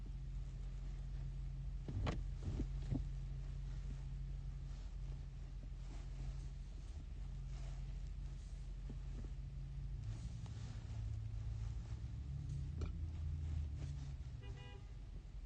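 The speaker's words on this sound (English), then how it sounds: "That engine sound was right as his car that's honking started to back up" A car idling and revving as it reverses on a street, a steady low engine rumble throughout with a few short horn toots partway through, nearby and moderately loud.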